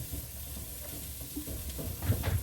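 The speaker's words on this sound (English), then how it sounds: "I'll take a spatula and just stir these up a little bit, mix them all up" A spatula stirs bison meal-prep ingredients in a hot frying pan, with soft scraping and shuffling strokes over a continuous sizzle, growing busier and louder toward the end.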